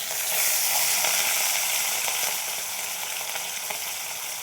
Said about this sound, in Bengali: তারপর আমি মাছগুলো ভেজে নেব।